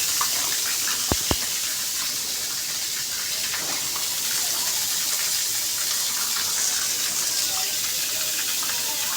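Water gushes steadily from the outlet of a submersible borewell pump, a broad continuous hissing rush that stays loud and even for the whole stretch, with two brief clicks near the start.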